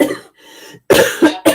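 A person coughs several times in short bursts, close and loud, with brief pauses between.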